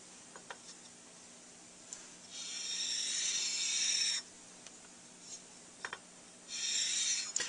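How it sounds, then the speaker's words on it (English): Fine sandpaper rubs a mouthpiece to close the tip in two short bursts of soft, close scratching, separated by quiet gaps with faint ticks. "I'll just use the fine part of the sandpaper here."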